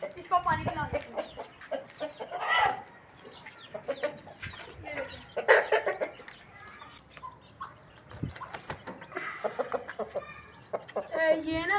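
Aseel chickens, a hen with chicks, cluck in short, scattered bursts close by, some louder squawks rising above soft background noise.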